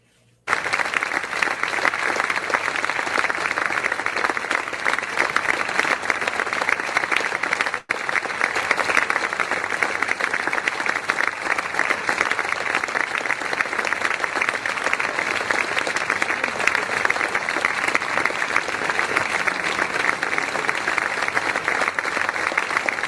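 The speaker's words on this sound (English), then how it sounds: "An applause for our sponsors." A large audience applauds steadily for over twenty seconds, dense clapping holding at a constant level with only a momentary dip partway through.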